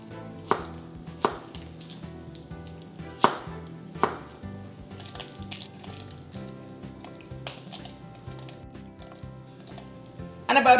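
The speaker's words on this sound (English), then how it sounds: "I'm just going to roughly chop them up so that it becomes easier to grind" Large garlic cloves being roughly chopped with a knife on a board: a few hard, separate knocks, then quicker lighter taps, close and clear with no voices.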